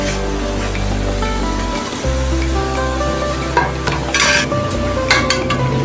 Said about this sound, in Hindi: ऐसे करके हिलाएं और अच्छी तरह ये छन्नी से देखें मसाला निकल गया